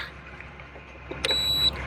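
A car jump starter's reverse polarity warning: a single high-pitched electronic beep sounds briefly and clearly over a quiet background hum, following a soft click.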